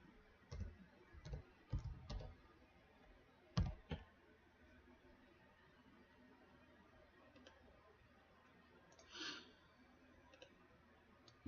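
Quiet, irregular clicking of typing on a computer keyboard with missing keys, a few louder clustered taps between long pauses and a faint background hiss.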